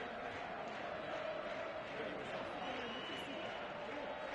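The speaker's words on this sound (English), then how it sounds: "Llandovery crowd in full voice, certainly enjoying their day out in the capital." A Llandovery rugby crowd roars in a dense, continuous wash of cheering and chanting, loud and sustained throughout, with a distant voice woven in.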